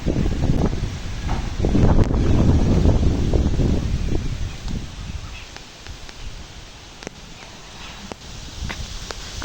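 Strong gusting wind ahead of a rural storm, roaring and buffeting the microphone in swelling surges, with rustling leaves and a few sharp ticks and crunches like footsteps scattered through it.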